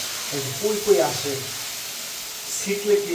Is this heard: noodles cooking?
yes